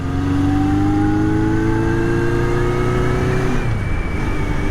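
A motorcycle engine revs through its stock 4x4 exhaust, the pitch climbing in steady harmonic sweeps, loud and close, then dropping back near the end.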